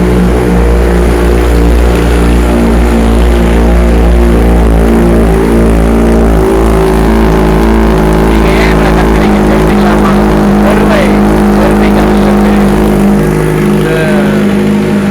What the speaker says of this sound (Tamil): ஒரு வண்டி ஆன் பண்ணதுக்கு இவ்வளோ சவுண்டு கேட்குமான்னு நானே எதிர்பார்க்கல.